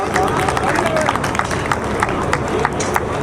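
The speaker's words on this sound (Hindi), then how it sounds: "तालियों से स्वागत करें आप जोरदार" Applause welcoming a guest at a foundation-stone laying ceremony, a steady scattered clapping from a crowd throughout, fairly loud and close, mixed with background chatter.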